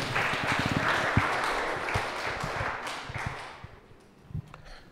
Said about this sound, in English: Uli Kusterer, ladies and gentlemen, a big round of applause.